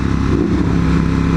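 A loud motorcycle roars past nearby, a dense, steady engine rumble filling the whole moment without any speech.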